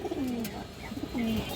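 A pair of Pakistani Kaldam high flyer pigeons gives two drawn-out, wavering coos close by, separated by softer soft notes over a steady room hiss, with no talk.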